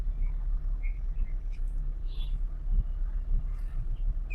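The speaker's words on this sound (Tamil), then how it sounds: "வண்டி செகண்ட் கியர்ல போயிட்டு இருக்கு." A car being driven in second gear gives a steady low engine rumble and road noise throughout, close and continuous, with no talking.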